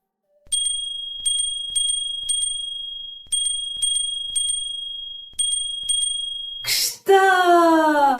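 A small red bell dings in quick, evenly spaced strokes, crisp and close, then the ringing breaks off into a short burst of noise and a bright whistle-like squeal at the end.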